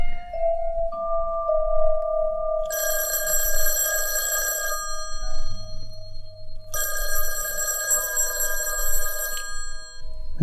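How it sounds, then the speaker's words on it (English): A telephone rings in an empty office at night: two long bursts of bright, metallic bell ringing separated by a quiet pause, with a low steady hum underneath and no talking. "The phone rang a couple of times."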